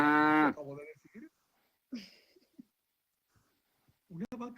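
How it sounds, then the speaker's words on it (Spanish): A cow gives one loud, close moo at the start, followed by scattered soft voices and quiet gaps. "Una vaca."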